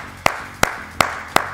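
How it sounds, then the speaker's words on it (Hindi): Four sharp, evenly spaced claps ring out close and loud, a short deliberate round rather than a full audience ovation. "तालियां।"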